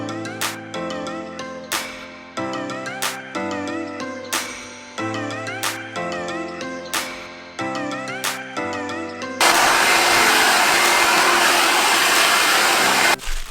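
A hair dryer blows steadily for about four seconds, a loud, even rushing roar that cuts in abruptly after a stretch of plucked music and stops just as sharply.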